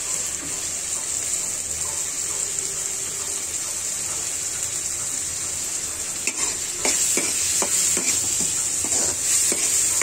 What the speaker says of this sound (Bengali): পানিটা টেনে আসা পর্যন্ত এটা নাড়াচাড়া করতে হবে।